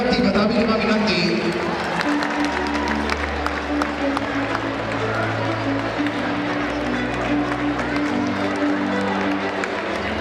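An audience at a school function applauds in a dense, continuous patter of clapping, with a low sustained hum of music or amplification beneath it.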